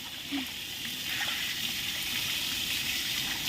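Water gushes steadily and splashes in a continuous stream over a golden retriever, close and fairly loud, with no voices.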